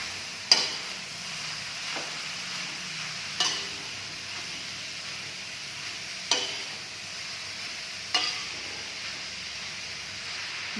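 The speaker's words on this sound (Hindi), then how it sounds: "घी गरम करने के बाद मैं इसमें डालूंगी अपनी लौकी को। तो इसको चला लेंगे।" Bottle gourd is stirred in hot ghee in a village kitchen, with a low continuous sizzle under five or six sharp spoon taps and scrapes against the pan at irregular intervals, close and with no talk.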